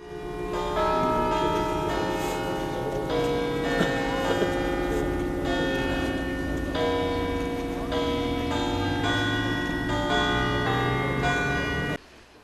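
Several church bells in Selvino, Italy peal together in a dense, continuous clangor, overlapping strikes ringing out steadily and loudly before cutting off near the end.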